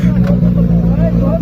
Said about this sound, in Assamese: একদম ফালি দিল বাইকৰ সাউন্ড